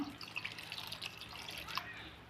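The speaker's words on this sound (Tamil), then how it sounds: "நம்ம வந்து செகண்ட் பாலை ஊற்றிடுவோம்" Second coconut milk poured into a pot of white pumpkin for Kerala-style olan, a soft, continuous liquid splashing and dribbling at close range with faint drips, no talking.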